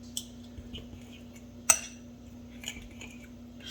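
A utensil stirs beer batter thickened with cornstarch in a bowl, producing quiet scraping and occasional sharp clinks against the side, with one louder knock in the middle, over a faint steady hum.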